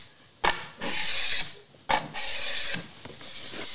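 A hand scraper drags across finished MDF in two close, raspy strokes, each opening with a knock as the blade catches and then a harsh scratchy scrape, followed by quieter scraping at the end.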